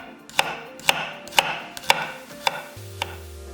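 Two whole garlic cloves are sliced thin with a knife on a cutting board, six crisp evenly spaced chops at close range, followed by a low hum, no speech.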